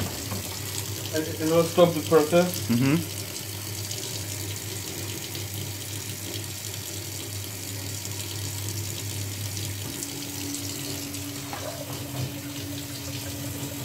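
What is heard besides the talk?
tap water running to rinse radiographic plate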